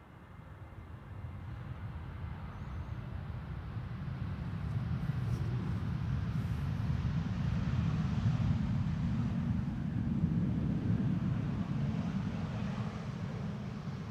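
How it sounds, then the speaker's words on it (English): A KLM Boeing 777-300 arriving from Panama City at Schiphol gives a steady, broad low roar that swells gradually toward the middle and holds, heard alone at a distance without voices. "a KLM 777-300 arriving from Panama City"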